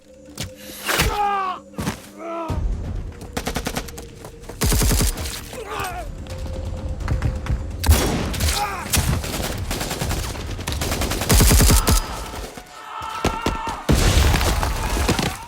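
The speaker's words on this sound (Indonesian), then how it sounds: "para pasukan pemberontak melakukan serangan mendadak hingga aksi baku tembak pun gak bisa dihindarkan" Gunfire from a military battle scene in an Indonesian film about a Kopassus operation in Mapenduma, Papua, with loud bursts of automatic fire, sharp single shots and thuds, some debris and shattering, and brief voices in between.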